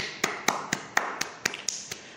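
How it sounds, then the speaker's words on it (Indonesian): Hand clapping, about nine sharp, evenly spaced claps in a quick steady rhythm, close and alone with no voices. "kita tepuk tangan dulu"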